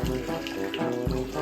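Water runs from a tap to fill a small home swimming pool, a continuous close splashing rush with no break and no voices.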